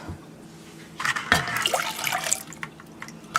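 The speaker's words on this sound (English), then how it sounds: "we're going to go ahead and put in our cream and our milk" Cream and milk pour into a bowl while a Thanksgiving side dish is assembled, a close liquid splash and trickle lasting about a second and a half, with quieter handling before and after and no talk.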